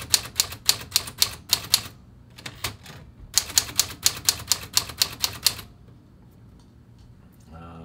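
Keys of a 1940s L.C. Smith Corona Sterling Speedline typewriter strike in quick, crisp bursts of clacks, a steady run followed by a pause and a second run, close and clear before falling quiet with a faint rattle at the end.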